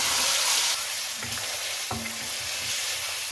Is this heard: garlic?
yes